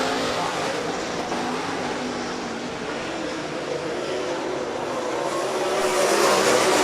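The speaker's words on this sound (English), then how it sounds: "As we go to 3 laps to go in the final MSTS Heat race." Sprint cars roar around Rapid Speedway in a dirt-track MSTS sprint heat race, a steady, dense engine drone heard from a distance with crowd-like wash and no clear individual passes.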